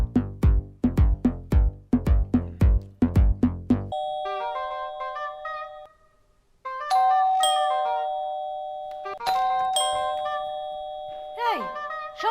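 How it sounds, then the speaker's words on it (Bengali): A doorbell rings over and over, with a rapid burst of repeated bell strikes followed by several sustained electronic ding-dong chimes, loud and close, and some voices in between. "তুমি এতবার কলিং বেল বাজাও কেন?"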